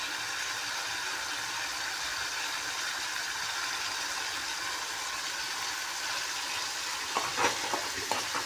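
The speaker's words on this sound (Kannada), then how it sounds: "ಟೊಮೆಟೊ ಉಳ್ಳಾಗಡ್ಡಿ ಫ್ರೈ ಮಾಡತ್ತೀವಿ ರೀ" Tomato and onion fry in a pan for a potato palya served with jowar roti, giving a steady close sizzle throughout, with a few utensil clatters near the end.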